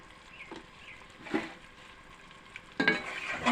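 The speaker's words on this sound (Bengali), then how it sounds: "ভালো করে মিক্স করে নিচ্ছি মশলাটা।" Ground spices, turmeric and coriander, are stirred into chickpeas in a frying pan, making soft scraping stirs with a faint sizzle beneath. The sound is quiet and close, with two louder strokes, one midway and one near the end.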